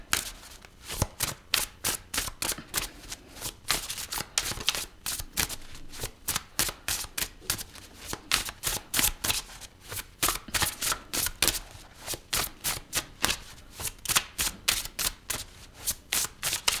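Tarot cards shuffled for a reading, a long run of quick, crisp riffling bursts repeating in a steady rhythm, close and fairly soft with no voices over them.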